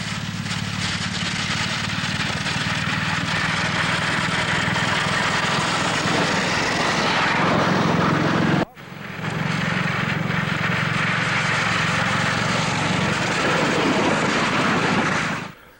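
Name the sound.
ice breaking under snow plow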